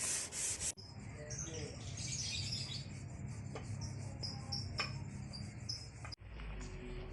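Filler putty sanded on a Land Rover Series III body panel, a steady continuous abrasive rubbing that runs for several seconds with a brief pause near the end, fairly close and moderately loud.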